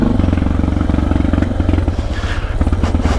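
A dirt bike engine runs close on a rough mountain pass, with a loud, rapid, pulsing exhaust beat that rises and falls as it revs, mixed with some rattling clatter.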